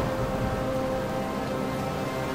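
Rain falls in the Guild Wars 2 video game as a loud, steady wash of dense hiss with no breaks and no voices.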